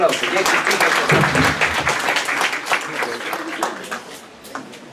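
Audience applause at a university workshop presentation and lecture on criminal law studies, a dense, steady clapping that is loudest at the start and slowly thins out toward the end.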